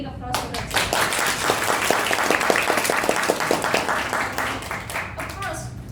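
An audience at a Toastmasters meeting gives a speaker dense, sustained applause with many hands clapping at once, loud and close, and some voices mix in near the start and end.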